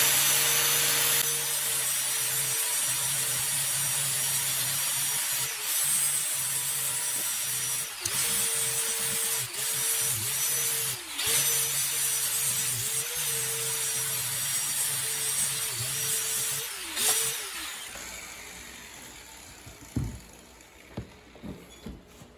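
The backs of rivets on a Porsche 911 Carrera 3.0 steering wheel are sanded down during a rebuild, giving a steady, close, abrasive rasping drone with short strokes and brief dips, fading out near the end.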